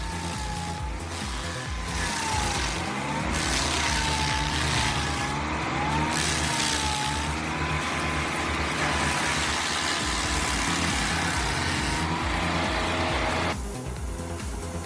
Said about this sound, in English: It's got a 49 horsepower Kohler engine roaring like a lion